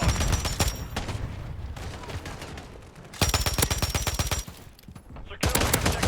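Rapid automatic gunfire in the video game Modern Warfare 3, Domination mode on the Rust map, crackles in loud bursts separated by brief lulls, with a faint voice in the background.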